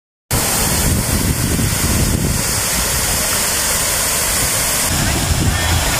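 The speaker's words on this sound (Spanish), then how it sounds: "Es impresionante sobre todo ver cómo la cantidad de agua que sube y baja." Large water-park fountain, the Fountain of Fantasy in Lima, Peru, with a steady loud rush of falling and churning water, nearby and continuous throughout, swelling slightly at moments as the jets rise and fall.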